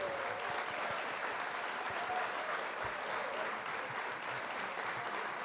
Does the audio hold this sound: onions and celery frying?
no